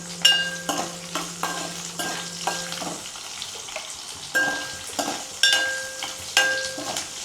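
Green chillies fry and sizzle in a pan while being stirred, with repeated sharp scraping strokes of the spoon over a steady crackling hiss, close and fairly loud, no talking.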